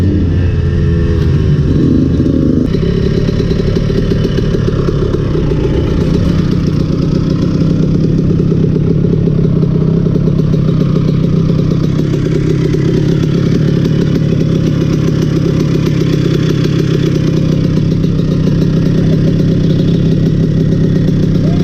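A restored 1990 Honda CR125 two-stroke motorcycle engine runs loud and close on a dirt track, a steady buzzing drone that holds throughout with slight shifts in pitch and no voices.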